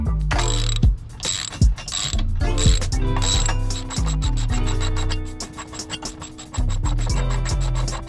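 A ratchet wrench tightens winch plate bolts on a Jeep Wrangler TJ, a loud close run of rapid metallic clicking that stops and restarts in bursts, with no voices.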